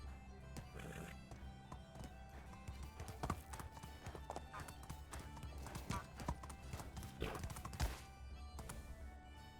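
Horse hooves clip-clop steadily through the medieval survival game Medieval Dynasty, a fairly loud, continuous rhythmic patter with occasional whinnies and game ambience, while someone talks over it.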